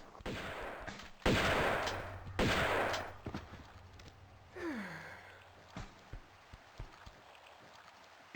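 Gunfire from the wrong gun in a Tomb Raider video game: a few loud bursts of shots up close, followed by a falling whoosh and scattered lighter impacts and clicks.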